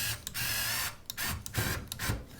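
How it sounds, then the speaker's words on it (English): A screwdriver drives wood screws while an integrated Siemens or Bosch oven is fitted, giving several short bursts of whirring motor with brief pauses between them, close and loud with no talk. "All right, so now we're just going to put our wood screws in."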